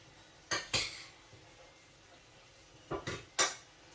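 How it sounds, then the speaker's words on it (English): A metal spoon clinks against a pot twice in quick pairs, spooning sauce over food while cooking in a caravan; the taps are close and sharp, separated by a quiet pause. "I'm going to spoon some of this stuff over the top"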